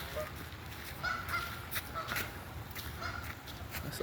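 Swans on a lake give honking calls, a few brief moderate cries over outdoor ambience, with people talking nearby.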